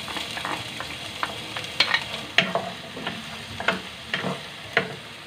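Chopped onion frying in vegetable oil in a pan, stirred with a utensil: a steady sizzle runs throughout, broken by a dozen sharp scraping clicks at uneven intervals, close and moderately loud, with no voices.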